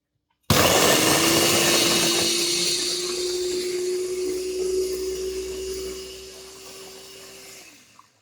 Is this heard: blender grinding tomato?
yes